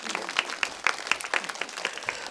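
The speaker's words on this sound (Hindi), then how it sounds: "अरे सही दिया भाई, जोरदार ताली।" Applause from an audience at a gathering in a Nagpur Buddha vihara, with a few bursts of clapping spread irregularly over a couple of seconds, fairly light and moderately close.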